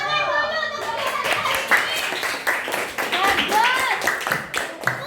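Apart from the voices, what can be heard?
class applauding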